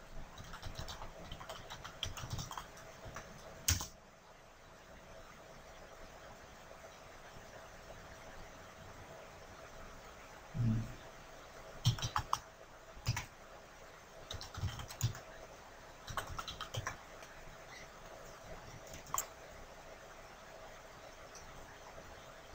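Computer keyboard typing while configuring a Cisco call manager telephony service in a networking lab: quiet, close clicking in scattered bursts with pauses between, over a faint steady hiss.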